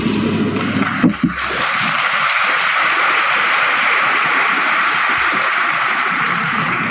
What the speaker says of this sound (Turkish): Peki şuna su döksek ne olur?